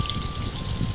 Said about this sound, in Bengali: এটা হচ্ছে সর্ষে, যেটাকে আমি পেস্ট করেছি জল দিয়ে, পুরোটাই ঢেলে দেবেন।